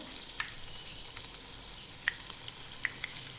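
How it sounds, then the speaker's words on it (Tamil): Bitter gourd fries in very hot oil in a kadai, giving a steady, soft sizzle with occasional small pops and spits. "இப்போ பாகற்காய்களை உள்ளே சேர்த்துருங்க எண்ணெய் வந்து ரொம்ப நல்லா சூடாக இருக்கணும்"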